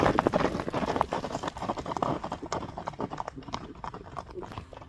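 A horse gallops off at the start of a race, its hooves pounding in a quick rhythmic beat that is loud and close, softening somewhat toward the end.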